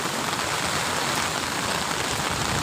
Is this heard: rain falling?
yes